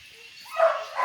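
Dog at a kennel letting out a short, close yip or bark in a brief burst near the end, with a quiet, indistinct voice in the background.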